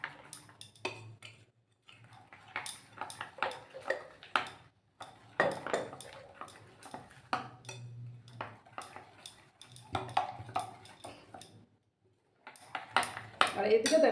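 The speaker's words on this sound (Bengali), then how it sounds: "দেখো ভালো করে আমি এটা মিক্স করে নিচ্ছি।" A spoon stirs semolina batter for bhapa pitha in a bowl, giving light, irregular clinks and scrapes against the bowl. A voice talks quietly between the taps.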